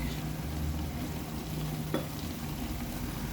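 Chicken liver with fennel powder, garam masala and pepper is stirred in a pan for a liver fry, making a soft continuous sizzle with one brief scrape near the middle, and no voices.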